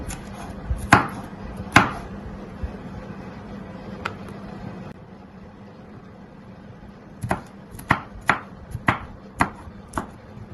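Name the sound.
chopping yellow bell pepper finely with a knife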